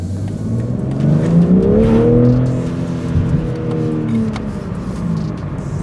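A 2021 BMW M4 Competition engine pulls hard, its pitch climbing as it accelerates, loud and close, then easing off with road noise.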